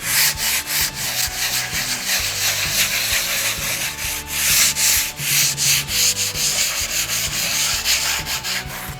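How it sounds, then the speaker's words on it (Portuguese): Sandpaper rubbed over a wooden board, with steady back-and-forth scratchy strokes repeating in a brisk rhythm, close and fairly loud, with no talking. "quanto mais sentidos diferentes a gente passar a lixa"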